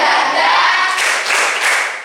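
A class of schoolchildren in a lesson does a rhythmic 'tepuk semangat' spirit clap, a dense, steady wash of many hands clapping close by for about two seconds, with a couple of stronger accents near the end.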